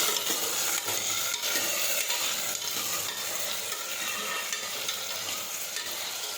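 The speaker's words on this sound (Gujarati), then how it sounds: "સમારેલા બટેટા નાખીશું. આ રીતે આપણે ફેરવતા જઈશું." Chopped potatoes fry and are stirred in a pan for a Gujarati potato shaak, giving a steady, loud sizzle with continuous scraping and turning and no voices.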